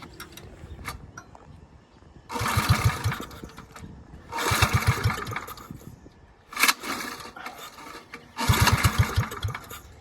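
A Fantic Motors mini bike engine under restoration is fired up, making four separate loud bursts of rough, sputtering engine noise about two seconds each, separated by quieter gaps with faint mechanical clicks, close to the microphone.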